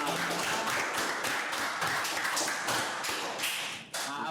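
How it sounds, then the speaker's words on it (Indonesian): Audience clapping during an Indonesian podcast, a dense patter of hand claps of moderate loudness that carries on steadily and then breaks off near the end. "Kita tepuk tangan dulu dong buat Aap."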